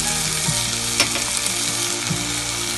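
Onion, chopped tomato and turmeric frying in a pan, a loud, dense, continuous sizzle up close with a few soft knocks and scrapes of stirring, and no talking.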